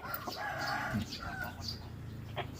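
Chickens of a Cuban Red bloodline cluck and chatter softly in a pen, with short repeated calls scattered over a faint, noisy background and a person speaking quietly nearby.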